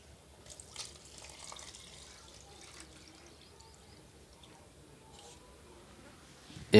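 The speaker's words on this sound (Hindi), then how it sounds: "अब इसमें दूध डालेंगे" About one litre of milk pours into a pan for homemade Punjabi seviyan, a low steady liquid splash and gurgle running under faint kitchen noise, ending in a sudden loud clatter.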